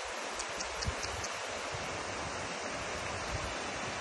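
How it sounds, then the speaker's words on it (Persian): Salty spring water pours from a mountainside in the Iranian desert, a steady broadband rush and gurgle of flowing water with a little wind noise, constant and fairly close, with no voices. "این رودخونه ای از نمک، آب شوری که از اینجا میاد"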